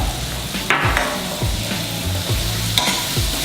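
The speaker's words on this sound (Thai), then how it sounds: "เอาบาปิก้าลงไปผัด นิด นึงเพิ่มสีด้วยใส่ลงไปเลยไปผัด" Squid stir-fried with paprika in a hot pan gives a loud, close sizzle, punctuated by rhythmic spatula scrapes and knocks about every half second.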